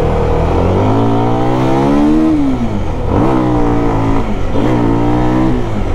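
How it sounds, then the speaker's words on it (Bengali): A CFMOTO 300cc motorcycle rides and revs loudly up close, the engine note climbing and falling through several throttle rises and gear changes, steady and dominant with no voices. "এই বাইকটা রাইড করতে যথেষ্ট মজা লাগতেছে"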